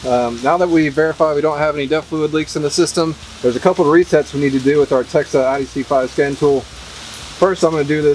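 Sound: rainstorm rain noise outdoors

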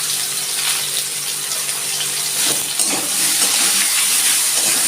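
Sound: potatoes frying in a pan over low heat

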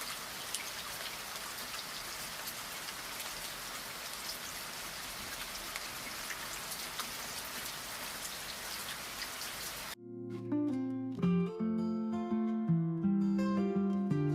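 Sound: rain falling

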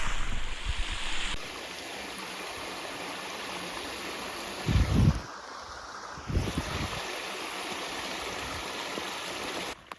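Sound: small river flowing out of a drainage grotto

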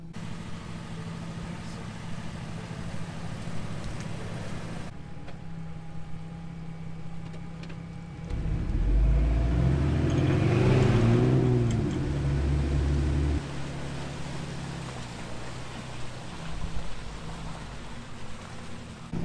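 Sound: 2WD Ford truck engine driving after being pulled out of mud

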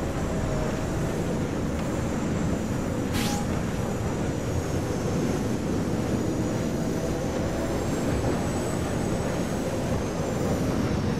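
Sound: bombers flying in from Star Wars Battlefront video game

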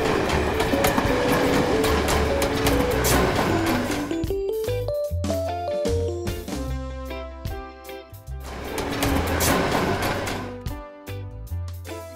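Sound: tram

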